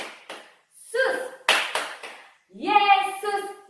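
Children clap along in a Holy Kids Sunday school clapping song, sharp hand claps in short bursts mixed with lively young voices singing and chanting between them.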